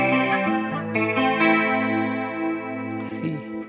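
Electric guitar played through a Sonicake Matribox 2 Pro with a Soldano 4x12 cabinet simulation, a short clean chorused phrase of ringing chords and single notes, close and alone.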